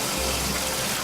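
Tap water gushes steadily into a pot being filled to cook rice, a loud, continuous splashing pour.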